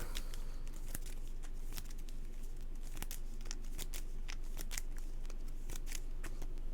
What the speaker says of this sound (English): I need to shuffle the encounter deck.